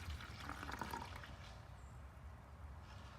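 Six ounces of liquid fertilizer glug and splash as they are poured into a garden hose-end sprayer bottle, a continuous watery pour over a low rumble, close and fairly quiet, with no talking.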